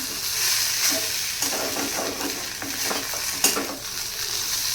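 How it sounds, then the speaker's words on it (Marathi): Fasting-style potatoes tossed with ground roasted peanuts in a pan, a spoon scraping and stirring in irregular strokes over a soft steady sizzle, close and fairly quiet, with no talking. "आता हा छान मिक्स करून घ्यायचा आहे आपण।"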